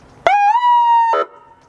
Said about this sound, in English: we'll put a siren in so we could make some noise